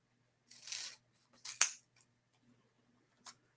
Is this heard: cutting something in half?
yes